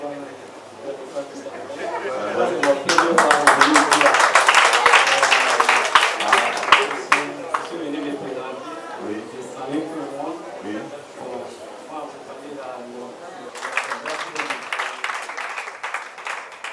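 Wedding guests applaud the newly married couple, a dense burst of clapping swelling mid-clip, then easing into chatter and talk before a second round of clapping near the end.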